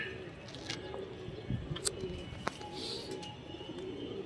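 High-flyer pigeons coo softly in the background of a loft, with scattered clicks and rustles nearby and no talking.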